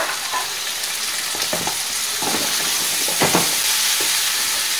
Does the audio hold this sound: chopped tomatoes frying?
yes